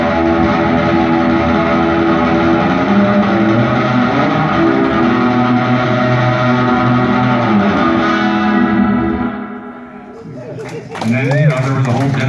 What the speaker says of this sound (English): Hopefully you can hear the subtle reverb effect over the tube popping out of the amp over here.